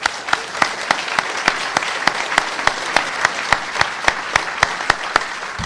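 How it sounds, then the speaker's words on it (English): Steady, rhythmic clapping, about three claps per second and loud and close, as an audience applauds a sponsor at a hacker conference closing ceremony, with no voices over it. "So I'd like to give a big round of applause to them."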